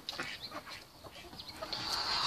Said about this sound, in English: That's a silky cross hen.